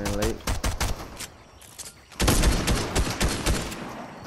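Rapid bursts of charging SMG fire in Fortnite crackle in quick volleys, with a short lull before a denser, louder stretch of shots.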